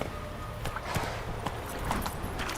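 Hooves of Roach, a horse in the video game The Witcher 3, clop in a steady trotting rhythm, fairly close and moderately loud over a low rumbling background, with no voices.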